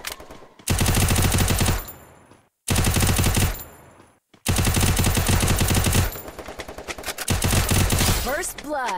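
Rapid automatic gunfire from the Free Fire battle-royale game hammers out in long, loud bursts separated by short gaps, with a few sweeping effects near the end.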